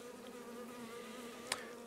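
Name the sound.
honeybees buzzing at hive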